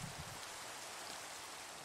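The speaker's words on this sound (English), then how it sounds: "Gonna get out of the rain." Steady rain falling in the Minecraft video game, a soft, even hiss of drops with no break. It is faint and stays alone without any talk.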